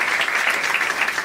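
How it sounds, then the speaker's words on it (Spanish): An audience applauds a magistrate at a public dialogue event with judges in Mexico: dense, steady clapping that holds at an even level for the whole stretch, with no talk over it. "magistrada Andrea Doria Ortiz Aguirre, también les pido un aplauso para ella."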